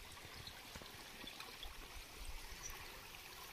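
Spring water gushes steadily from several pipes at a village source in Kinnaur, a continuous close splashing and trickling rush with no voices over it.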